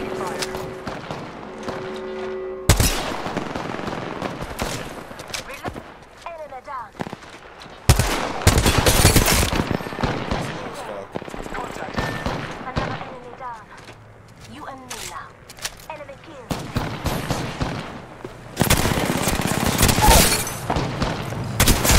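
Gunfire in Apex Legends comes in bursts of rapid automatic shots and sharp single cracks, loud and close, with quieter gaps where speech is heard.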